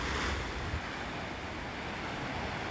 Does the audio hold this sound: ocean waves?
yes